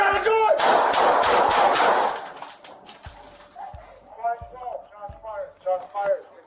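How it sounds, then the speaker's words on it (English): Gunshots fired by a police officer during a basement entry: a loud burst of rapid shots at the start, then four or five sharper separate shots spaced about half a second apart, with shouting voices throughout. "Shots fired."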